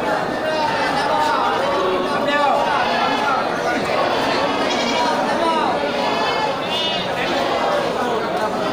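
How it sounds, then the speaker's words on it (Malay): Large billy goats bleating repeatedly amid a noisy crowd at a livestock market auction, with overlapping calls and steady chatter throughout, close and loud. "kambing bandot besar ya"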